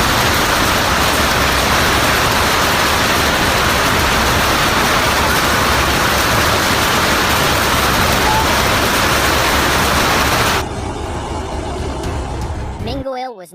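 A hailstorm with torrential rain pounds down as a dense, loud, unbroken roar of hail and water striking surfaces. It drops off abruptly near the end to a quieter wash before cutting out.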